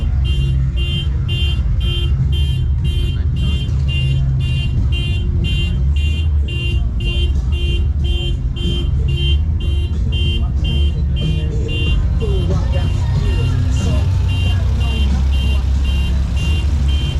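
A car alarm blares at a classic car show in Eastvale, California, a loud, steady train of repeated electronic beeps and tones running throughout over engine and crowd noise, with a voice briefly heard.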